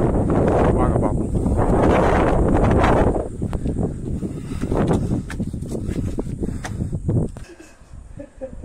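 Strong wind buffets the microphone on the hilltop at Senji Fort, loud broadband roaring gusts that swell and ease, dropping away near the end.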